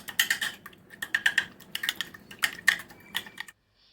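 Oats omelette batter with chilli powder and salt is mixed briskly and close by: a quick, even run of clinking taps and scrapes for about three and a half seconds that stops abruptly. No one speaks.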